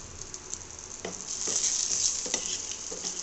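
A bay leaf dropped into hot oil crackles and sizzles close by, with a few sharp pops and stirring scrapes over a steady frying hiss.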